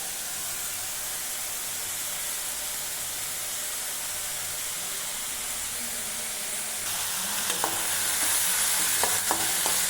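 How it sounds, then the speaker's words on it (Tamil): Ginger garlic paste sautés in a hot pan with a dense, steady sizzle. Toward the end the frying grows louder and brighter, with a few sharp stirring scrapes, and no one speaks. "இதோட பச்சை வாசம் போகிற வரைக்கும் லைட்டாக வதக்கிட்டு"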